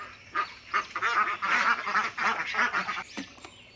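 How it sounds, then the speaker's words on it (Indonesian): A duck in a dinosaur video game (Jurassic World Evolution 2) gives a run of nasal, honking quacks repeating in quick bursts, fairly close and alone, ending with a sharper squawk. "Wadidaw, di sini ada bebek."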